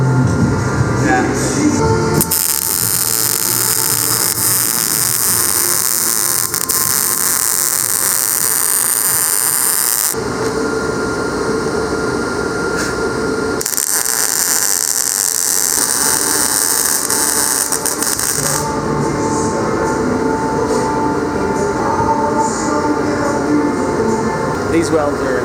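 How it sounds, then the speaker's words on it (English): MIG welder welding rails gives long stretches of loud, harsh crackling buzz that start and stop abruptly, with short quieter pauses between the welding runs. "It's only like the 3rd time I've ever used a MIG welder"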